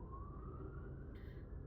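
A siren from an emergency vehicle, probably an ambulance, sounds downtown, its wail rising slowly through the middle distance over a rumble of traffic, with a brief brighter burst near the end.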